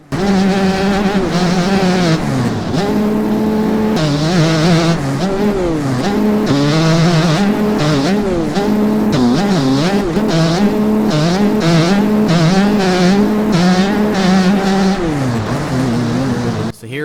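A KTM dirt bike engine in MX Bikes racing game wails loudly and continuously, revving up and down through gear changes, close and sustained throughout.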